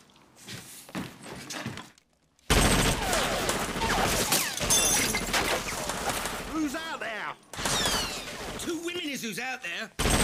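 Gunfire from a film scene, a dense fusillade of sharp shots and impacts running almost continuously, with a brief near-silent gap early on and another dip near the end.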